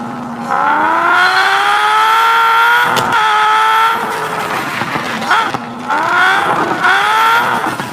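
A 1998 Toyota Supra Mark IV drifting in the Car Parking 2 video game, its engine whining through rising and falling revs with tire squeal and sliding noise, loud and close, cut by a sharp break before the revs climb again.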